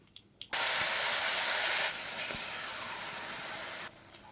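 Black cumin paste hitting hot oil in a pan, giving a sudden loud hiss that settles into a steady sizzle for several seconds, with no talking.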